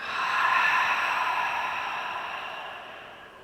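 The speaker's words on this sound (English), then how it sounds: "We'll close with a deep breath in. Exhale to let it go." A long, audible exhale at the close of a yoga session, a soft breathy sigh that swells and slowly fades over a few seconds, heard alone.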